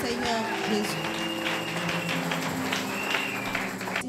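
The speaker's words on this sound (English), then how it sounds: "Clap hands to Jesus." Church congregation clapping hands in worship, a steady patter of applause running throughout beneath voices and music.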